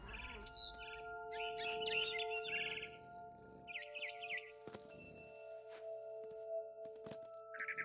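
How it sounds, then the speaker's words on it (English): A barn swallow chirping near a window in the video game What Remains of Edith Finch: faint, short high chirps scattered over several seconds, with soft thuds and a sustained tonal musical hum underneath. "Then I heard chirping outside my window. It was a barn swallow going back to her nest."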